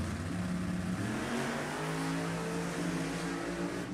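A 2000 Camaro Pro Charged drag car roars down the strip at a race, a loud sustained engine drone with steady harmonic tones throughout, no voices.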